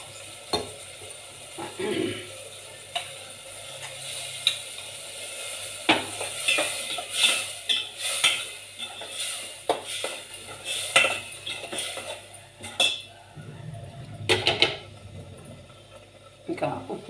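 Bottle gourd curry with tomato and masala simmering in a pan after water is added, stirred with a utensil scraping and clinking against the metal in repeated close strokes, with a faint background hum.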